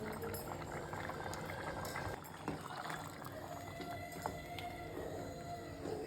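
Ground coconut paste goes into a pot of boiling kohlrabi kurma, with a faint, continuous bubbling and a few soft pouring and plopping sounds.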